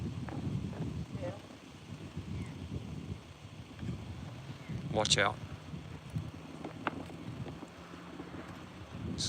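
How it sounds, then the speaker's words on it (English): Gusty wind blows outdoors at a horse and pony yard, a steady low rumble of wind noise across the microphone, with a few people talking briefly over it. "We're getting a lot of wind coming up"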